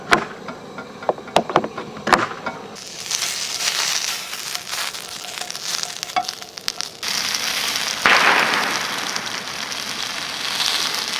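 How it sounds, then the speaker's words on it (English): Several sharp, distant gunshot pops crack out in the woods over a steady sizzle of breakfast sausage and hash browns frying in a pan nearby. "Nothing like cooking breakfast to the sound of gunshots."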